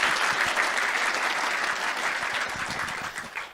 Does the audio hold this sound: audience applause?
yes